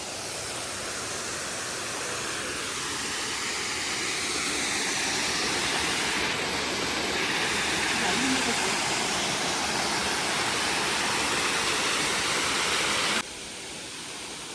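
A small waterfall in the hills near Kudremukh in Karnataka during the rainy season gives a steady, dense rush of falling water that fills the clip alone, dropping slightly quieter near the end.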